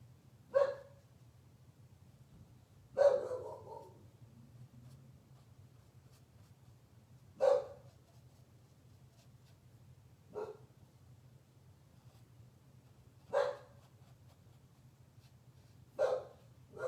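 A female dog barks from a distance, about six short, sharp single barks spaced a few seconds apart over a steady low hum, with no talk over them.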